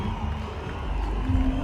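A cricket crowd cheers after a boundary in a T10 Blast match between Telugu Warriors and Bengal Tigers, with a dense, swelling roar of voices that builds toward the end.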